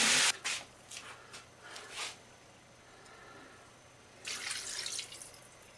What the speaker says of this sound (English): we need to top that up with lots of water